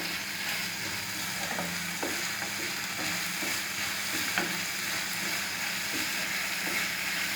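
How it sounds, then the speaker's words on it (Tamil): Chicken pieces and vegetables sauté with sauces in a pan, a steady close sizzle with soft stirring scrapes and occasional spatula clicks running throughout, no voices. "நல்லா பரவலாக சிக்கன் அப்புறம் வெஜிடபிள்ஸ் கூட சேர்கிற மாதிரி நல்லா வதக்கிக்கலாம்."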